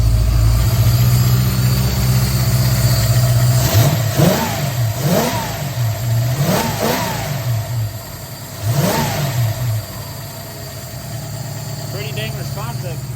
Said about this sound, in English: All right, Mustang started.